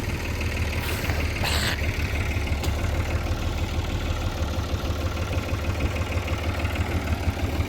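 A tractor engine idles steadily in a rice field setting, a constant low rumbling drone close by with small swishing noises early on.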